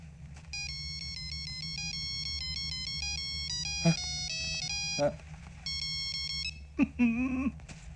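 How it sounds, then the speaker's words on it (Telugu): A mobile phone ringtone plays a bright, repeating melodic beeping tune at moderate volume over low background hum, with brief voices breaking in near the middle and the end. "Ring tone sir. Ring tone."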